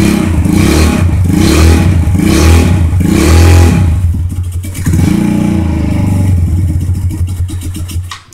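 A custom scooter fitted with a Flowmaster muffler, strapped down in place, revs loudly nearby in repeated rising and falling bursts before settling into a rough, lumpy idle with a slight rattle.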